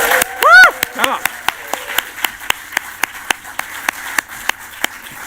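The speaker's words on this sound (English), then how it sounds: "could I just ask you to give a massive round of applause and a cheer for all those people who have raised funds over the last year" Audience at a health board annual general meeting clapping in a steady, fairly sparse rhythm, with a brief whoop of cheering near the start and the claps continuing evenly.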